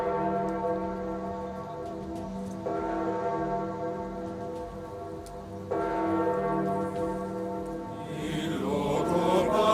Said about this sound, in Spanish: Con el sonido de las campanas doblando y entonando diferentes salmos, ha comenzado la procesión